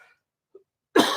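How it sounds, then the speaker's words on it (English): A single sharp, close cough bursts out after near silence, preceded by a faint breath. "I still have my cough going from pneumonia."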